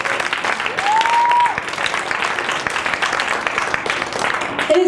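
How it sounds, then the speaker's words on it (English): A crowd applauds steadily, a dense wash of clapping that holds for several seconds at full strength. "Big round of applause for the people who love Lincoln and Thaxton."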